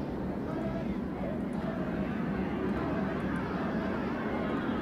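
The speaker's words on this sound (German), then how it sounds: "kommt da ein Flugzeug oder was ist los?" Airplane drone in the riot game Riot: Civil Unrest, a steady loud broadband roar holding throughout the clip.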